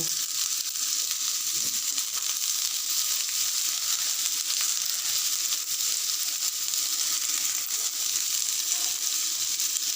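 Potatoes sizzle steadily in a hot pan for a Bengali radish-greens chorchori, a loud, continuous bright frying hiss with small crackles, no talk.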